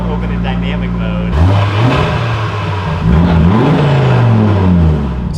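An Audi RS3 with a modified exhaust, valve open in dynamic mode, starts as a steady idle drone and then revs up sharply, giving several rising and falling blips up close and loud.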